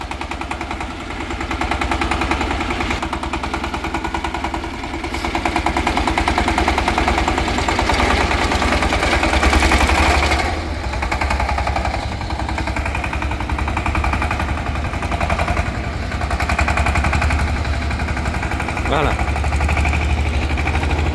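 A Mini Zubr mini tractor engine runs at a motor shop, chugging in a fast, rough, continuous rattle while people talk over it nearby.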